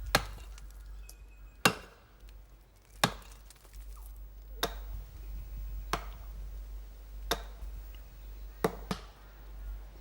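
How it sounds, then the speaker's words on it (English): Women chopping down thick, hollow trees, with sharp, distant axe strikes ringing out about every second and a half, sometimes in quick pairs, over a low steady outdoor rumble. "No matter how thick the trees are, the women do not take long in chopping them down"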